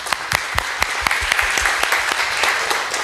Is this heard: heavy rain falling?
no